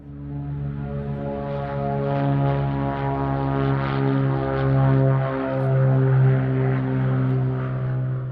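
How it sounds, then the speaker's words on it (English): A propeller-driven chase plane's combustion engine drones steadily overhead, a sustained harmonic hum that swells and eases slightly as the aircraft passes at moderate distance. "you're hearing the combustion engine from the chase plane"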